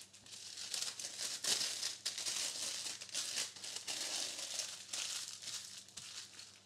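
Butternut squash seasoned with salt, olive oil and black pepper is wrapped up for the oven, giving loud, continuous crinkling and crumpling of what sounds like foil or paper, close up and without talk.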